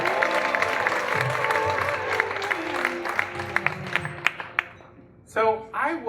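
Audience applause for a storyteller at a Moth GrandSLAM storytelling event: a dense, steady wash of clapping and crowd noise that thins into scattered claps before a voice begins speaking at the end.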